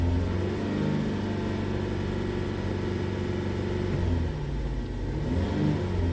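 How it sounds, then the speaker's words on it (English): A 2009 Chevrolet Traverse V6 GDI engine with misfire and timing codes idles under a raised throttle, a deep steady rumble with a slight dip and recovery in pitch, heard up close with no talk. "I'm going to raise the RPMs up slightly."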